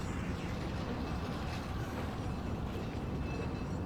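A train rolls along in the video game Resident Evil 4, giving a faint, continuous rumbling clatter with no one speaking over it.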